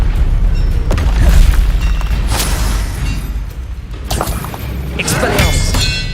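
Blasting spells from Hogwarts Legacy boom and crash one after another. The loud, rumbling impacts arrive in quick succession and are mixed with spell-casting shouts and combat clatter throughout.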